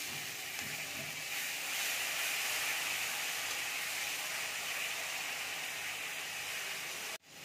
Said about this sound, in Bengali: এবার একটু জল দিয়ে দিচ্ছি।